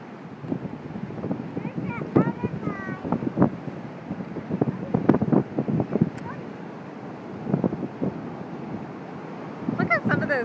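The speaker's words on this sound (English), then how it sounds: "Look at some of those waves cresting out there." Hurricane surf pounds a South Carolina beach on Folly Beach's 10th street as strong wind buffets the microphone in a constant rushing roar, with people talking and shouting excitedly throughout.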